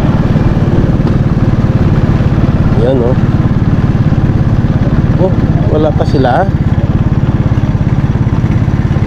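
A motorcycle engine runs steadily with a constant loud putter throughout, while people chat briefly over it.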